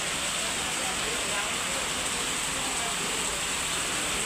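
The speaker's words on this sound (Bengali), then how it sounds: "দেখেন কি বৃষ্টি পড়তেছে, প্রচুর প্রচুর" Heavy rain falls steadily, a dense, even hiss with no breaks, fairly close and moderately loud.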